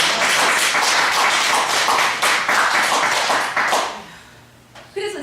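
A church congregation at a seminar claps in dense, loud applause that dies away quickly, with a voice returning at the end.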